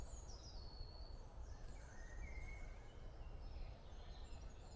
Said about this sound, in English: Just amazing just to hear the sounds of the birds.